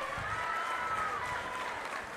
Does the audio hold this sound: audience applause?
yes